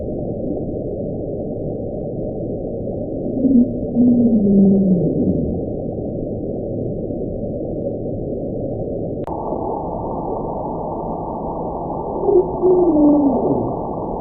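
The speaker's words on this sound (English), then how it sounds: "This sound source is also thought to originate from the process of cracking underwater icebergs in Antarctica" Hydrophone recording of Antarctic underwater icebergs cracking: low, muffled underwater rumble with steady hiss, broken twice by a long, drawn-out moaning sound that slides downward in pitch.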